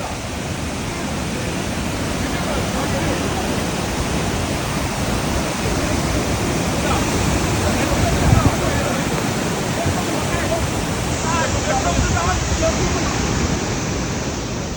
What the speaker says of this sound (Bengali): রোমাঞ্চকর এক ঝর্ণা